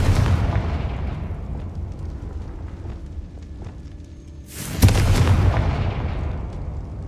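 A Confringo fire-spell blast in the Hogwarts Legacy video game: a heavy booming explosion that decays into a long rumble, followed by a second sudden loud burst and roaring tail, close and powerful.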